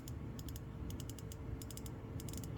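An ARES 72T offset 1/4 inch comfort grip ratchet clicks in quick bursts of fine, light clicks as its handle swings back and forth, close and clear.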